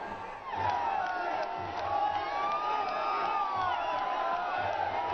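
A large crowd cheers and whoops continuously at PM Modi's roadshow in Kochi, Kerala, a dense, sustained roar of many voices from a distance.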